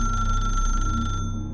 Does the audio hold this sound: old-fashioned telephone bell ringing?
yes